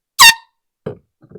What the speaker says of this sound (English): Here I got an air horn.